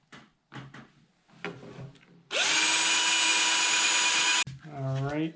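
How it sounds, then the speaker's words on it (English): A person speaks briefly, then a power drill with a step bit whines loudly for about two seconds as it bores through plastic, spinning down afterward. "once you are ready with your step bit, you were just gonna drill your holes"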